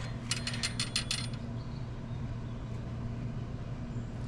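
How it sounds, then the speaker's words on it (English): A wrench tightens a bolt while a used Howe ice flaker is being installed, making a quick run of about six sharp ratcheting clicks. Quiet room noise follows. "that's about as tight as that wrench is going to get her on there."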